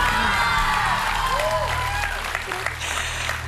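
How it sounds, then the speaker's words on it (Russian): A studio audience at a weight-loss show finale applauds a contestant with sustained, loud clapping and some cheering, while a voice speaks over the noise. "ты заслужила эти аплодисменты сегодня"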